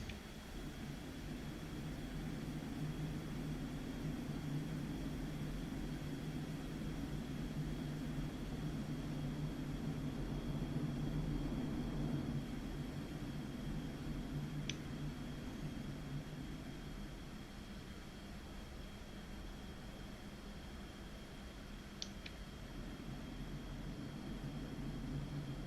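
MiG jet aircraft flying down the side of a runway on approach, a constant broad engine roar with a steady whine, heard continuously from inside.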